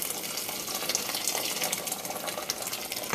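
Water pours steadily into a cooking pot for a Caribbean salt beef soup, a close, continuous splashing gush heard alone with no talking.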